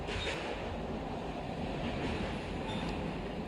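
A train rolling along rails after leaving a station gives a steady, close rumble with continuous rail noise throughout, with no talking over it.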